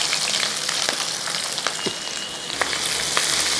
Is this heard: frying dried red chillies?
yes